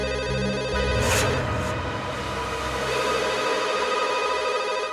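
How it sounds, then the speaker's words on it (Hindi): Telephone ringing late at night in a police crime-drama scene, a steady electronic ring with dense repeated harmonic tones sounding loud and continuous, heard alone without talk over it. "इतनी रात को कौन फोन कर रहा है?"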